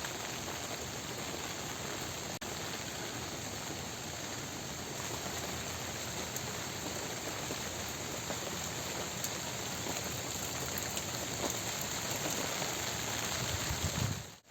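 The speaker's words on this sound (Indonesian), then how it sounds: "Jadi makin kesini hujannya makin deras baraya ya." Heavy rain pouring down steadily over a village, a dense continuous wash of drops hitting surfaces, constant and loud from start to finish with no voices.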